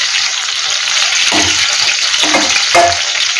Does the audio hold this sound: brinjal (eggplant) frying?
yes